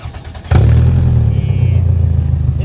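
A 1999 Toyota Camry with an exhaust leak cranks briefly, then catches and settles into a loud, rough, rumbling idle close by, running steadily to the end.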